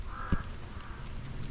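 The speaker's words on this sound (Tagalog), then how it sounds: "kinakain ng uwak." A single short crow caw, fairly clear against steady outdoor background noise in a taro field in San Fernando.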